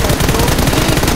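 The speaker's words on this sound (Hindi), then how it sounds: "पीछे से फायर मार रहा है" Rapid automatic gunfire in the PUBG battle royale video game, a dense, continuous burst of shots filling the whole moment at close range with no pauses.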